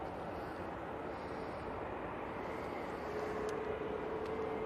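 A Jet2 airliner departs Manchester Airport, heard as a steady distant engine roar with broad rumble, faint and continuous, with no talk.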